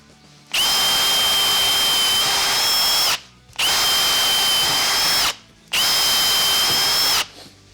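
A power drill fitted with a freshly sharpened split-point bit bores into wood in three separate loud bursts, each a few seconds long, with a steady high whine and short quiet gaps between them.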